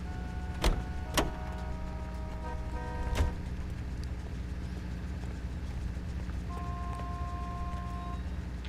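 A car in the video game L.A. Noire gives three sharp, close clunks early on. A steady low engine hum follows, with a faint sustained tone sounding near the end.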